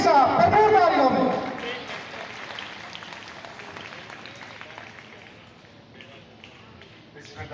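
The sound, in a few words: applause at orphanage ceremony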